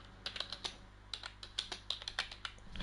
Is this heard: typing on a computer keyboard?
yes